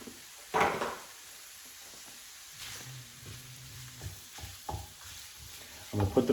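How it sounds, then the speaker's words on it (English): Pork browns in a pan with olive oil over a medium flame, giving a low, steady sizzle broken by scattered scrapes and clinks of a utensil stirring the meat, heard up close with no talking. "So I'm gonna add the pork to my pan. We're gonna cook up our pork."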